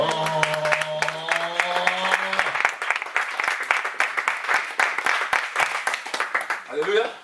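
A church congregation claps and cheers during a worship service, with sustained applause throughout and a held sung or voiced tone at the start. The congregation's voices mix in with the clapping.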